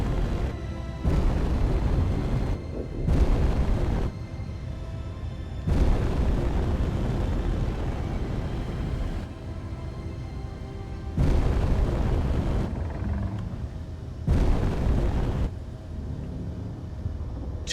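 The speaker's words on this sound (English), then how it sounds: "Two exploding stations." Space stations exploding in Space Engineers: a series of heavy, rumbling booms in separate bursts of a second or more, each a broad roaring blast over a constant low background.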